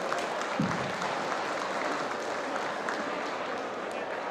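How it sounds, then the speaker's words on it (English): Sustained applause from a crowd of attendees at a community safety and business panel, a dense continuous wash of clapping that stays even throughout, heard from within the room. "if we can give a round of applause to everyone that's here"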